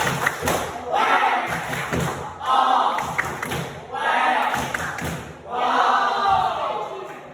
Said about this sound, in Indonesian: tepuk pau satu kali lagi ya. Tepuk pau.